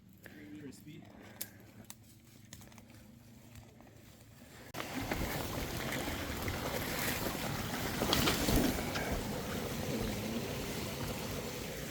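A small woodland waterfall during a wild mushroom foray, heard first faintly under footsteps and wind, then a steady broadband rush of falling water swells up close and continues; people talk over it.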